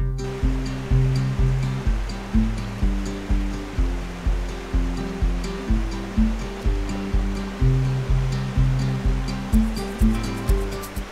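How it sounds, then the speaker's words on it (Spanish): A waterfall on Río Palacios rushes steadily nearby, a dense roar of water heard alone with a faint pulsing rhythm in the low end. "Cruzamos y bajamos a la cascada."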